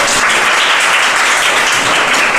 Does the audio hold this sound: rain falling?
no